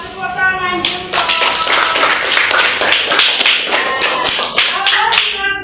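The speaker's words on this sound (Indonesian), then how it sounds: "Tepuk tangan, jempol." Classroom of children clapping their hands in unison, a fast rhythmic burst of many close claps that runs for several seconds, with a voice briefly heard at the start.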